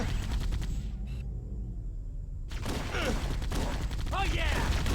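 Pistol shots and other weapon fire crack through combat in Halo: Combat Evolved, loud repeated bursts with a brief lull midway, mixed with game dialogue voices.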